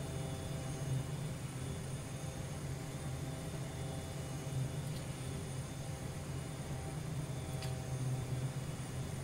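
Embraer EMB-314 Super Tucano turboprop engine drones steadily in flight in the FSX flight simulator, a constant even hum with faint higher whine, alone without talk.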